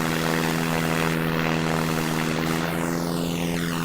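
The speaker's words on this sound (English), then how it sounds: "Apparently, if I have it in a sort of sweet spot, which is about here, vertical takeoff is possible." A steady, loud propeller-engine drone from a VTOL plane attempting a vertical takeoff in the SimplePlanes video game, a constant buzzing hum with sweeping tonal shifts as the engine pitch changes, and no talk.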